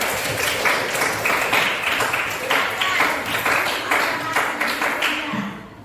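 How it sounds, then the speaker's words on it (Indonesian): A classroom group of students applauds a student group after a lesson on flora and fauna, a steady burst of many hands clapping close by for several seconds, fading at the end with a voice underneath. "Beri tepuk tangan dulu untuk kelompok flora dan fauna."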